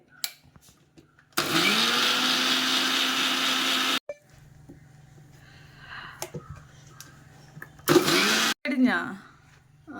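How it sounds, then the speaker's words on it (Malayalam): A kitchen mixer grinder grinding curry ingredients for a bachelor's dried prawn curry, a loud steady motor whine in two bursts, a long run then a short one, with quiet talk and clatter between them. "അപ്പൊ ഉമ്മച്ചി മിക്സിയിൽ ഇതടിക്കണ്."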